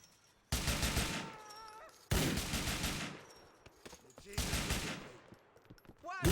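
Grand Theft Auto IV gunfire comes in three separate bursts of rapid automatic shots, each loud and close, with quieter gaps between them and a final shot at the end.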